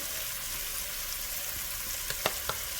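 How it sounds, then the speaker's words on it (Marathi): Ground onion and coconut masala paste sizzles in hot oil for a Malvani drumstick and potato curry, a steady hiss with a few sharper crackles and stirring ticks near the end. "आणि आता याच्यामध्ये मी आपला हा वाटण जे आपण केलं आहे कांदा खोबऱ्याचं ते टाकणार आहे"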